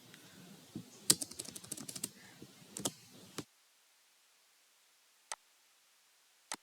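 Quick bursts of typing on a computer keyboard, a close cluster of light clicks for a few seconds followed by silence and two isolated single key taps.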